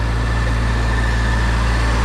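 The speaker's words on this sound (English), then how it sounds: "V8 engine." A concrete truck's V8 engine runs at a steady, heavy rumble close by, loud and unbroken with a low droning hum throughout the short stretch, no talk over it.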